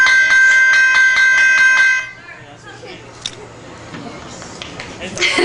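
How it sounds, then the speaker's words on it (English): Rapid ringing bell at a tiger show at Six Flags Great Adventure, used to call tigers inside, loud and bright for about two seconds, then gives way to crowd noise and a voice talking. "we use a bell to call them inside for training"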